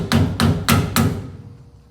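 A small chisel is hammered against the edge of a rear wheel seal on a Silverado-type pickup axle. Four sharp metallic taps come at an even pace, close and fairly loud, with no voices.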